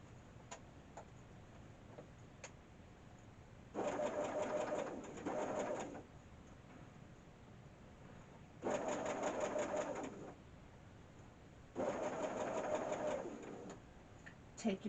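A sewing machine stitches patchwork in three quick bursts of rapid mechanical whirring, separated by quiet pauses, heard close and fairly soft.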